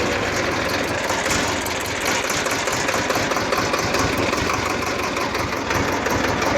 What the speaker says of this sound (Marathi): तर झाला ट्रॅक्टर चालू घेता का तू?